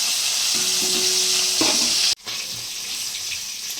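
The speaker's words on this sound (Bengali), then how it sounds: "মাছটা ভাজা হয়ে গেছে," Tilapia fish fries in oil, a loud, close, continuous sizzling hiss that cuts off abruptly partway through, then resumes at a similar level.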